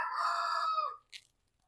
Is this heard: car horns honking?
no